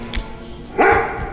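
A dog in the video game Overwatch 2 gives a short, loud bark near the end, after a few quieter yips and thumps, with no voices heard.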